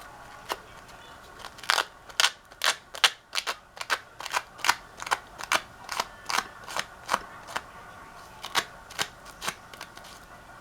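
The edge of a paper playing-card ticket is worked with a tool or sandpaper in about twenty rhythmic rasping strokes. Each stroke is a short, crisp scrape, repeated steadily at close range with no talking.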